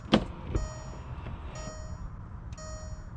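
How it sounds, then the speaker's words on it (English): Motor whirs from a car's active rear spoiler rising, with a sharp click at the start, then short electric hums and a faint tonal whine in a quiet setting. "there's a little spoiler that pops up in the back."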